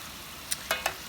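Coconut samosas fry gently in oil on low heat, a steady soft sizzle with three brief crackling pops close by, no talking.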